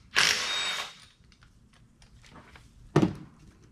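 A power tool, likely an impact or drill, spins star-bit head bolts off a Mazda Skyactiv engine during a Miata teardown, giving a close, loud burst of nearly a second, a pause, then a shorter second burst.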